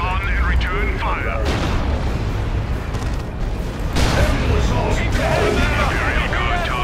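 Gunfire and heavy booming weapons in the real-time strategy game Dawn of War II: Retribution, with a dense, continuous rumble of battle under character voices speaking over the fighting.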